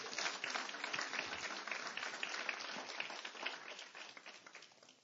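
A church congregation claps for the Lord during a service, a dense, thin-sounding patter of many hands at a fairly low level that slowly fades.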